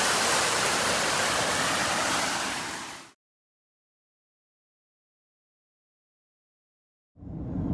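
A waterfall near a Whiskeytown trailhead in California gives a loud, steady broadband rush. It cuts out abruptly into about four seconds of silence, then the roar returns.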